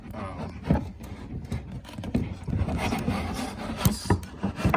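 A wooden step slides snugly into the slots of a homemade adjustable toddler learning stool. The wood gives a close, continuous rasping rub with a few louder knocks as the tight fit grinds into place.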